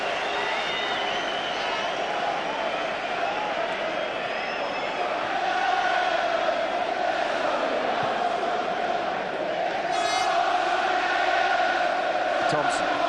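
A football stadium crowd roars steadily and loudly throughout a 2002 friendly between Arsenal and Celtic, a broad continuous wash of massed voices that swells slightly midway.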